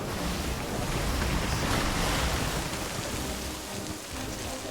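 A boat rides high ocean waves in the pirate game Sea of Thieves, with a steady, dense roar of rushing water, wind and spray filling the whole stretch without a break.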